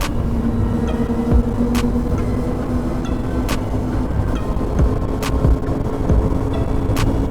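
A Mercury Racing 500R V8 boat engine runs at a steady, loud, droning hum with a constant low rumble throughout, and a few faint sharp ticks or knocks are scattered over it.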